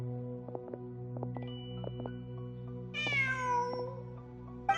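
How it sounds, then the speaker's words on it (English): A cat in Genshin Impact gives a single clear, close meow over a soft ambient game music bed with light plucked notes, and no speech. "Just a cat."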